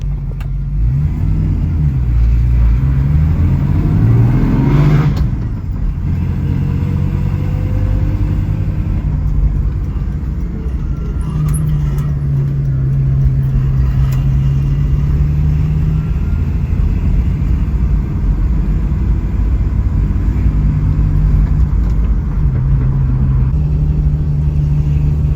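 A 1966 Ford Mustang with an inline six and a T5 manual gearbox drives on the road, its engine rumbling steadily close by with shifting revs and a rise around the five-second mark, heard alone without speech.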